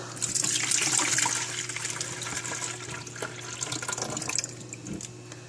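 Freshly made juice from an electric juicer pours and splashes into a container, a steady close liquid rush with small gurgles, tapering slightly toward the end.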